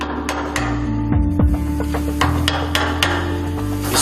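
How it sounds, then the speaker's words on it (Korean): A worker scrapes residue off a separated kayak mold, producing irregular sharp scraping and knocking strikes over a steady background machine hum. "조금 전 떼어낸 분리형 카약 금형에서 뭔가를 열심히 긁어내는 것 같습니다."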